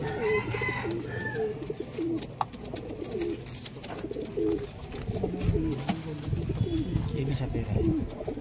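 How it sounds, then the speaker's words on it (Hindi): Chhapera pigeons coo repeatedly in soft, throaty phrases at a pigeon market, several birds overlapping close by, with people talking and background bustle throughout. "ये भी छपेरा कबूतर है दोस्तों।"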